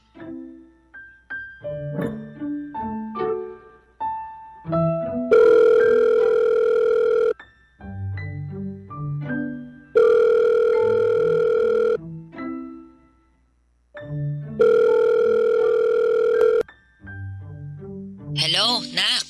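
A mobile phone call's ringback tone sounds in three long, steady bursts, each separated by stretches of melodic music, all at a clear, even level.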